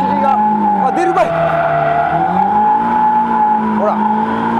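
Car tyres squeal in long wavering tones as the rear slides out in a practice drift, loud and close over a droning, revving engine, with the pitch bending as the slide develops.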